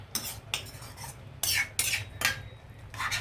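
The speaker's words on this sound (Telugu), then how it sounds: "ఇలా కలిపేసి మూత పెట్టేసి ఒక 2 మినిట్స్ ఉడకనిద్దాం." Chicken with tamarind leaves being stirred in a pot, a series of close scraping and clinking utensil strokes against the metal, irregular and fairly quiet, with no voices.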